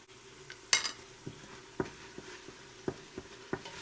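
Tomato paste sizzles softly in an Instant Pot while a utensil stirs it, giving a low frying hiss punctuated by several sharp scraping clicks against the pot at irregular intervals.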